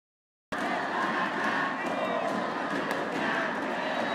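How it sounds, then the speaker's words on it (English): A dense Indonesian crowd cheers loudly and steadily at a badminton match, a broad, continuous roar filling the arena from start to finish after a brief silence. "The Indonesian crowd here enjoying this."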